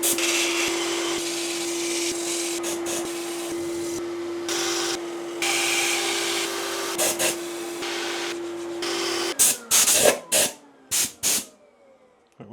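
A power sander works over a woodturned monkey puzzle wood piece. A steady hissing whine with a constant tone runs for several seconds, then stops and gives way to short, sharp bursts before fading to quiet.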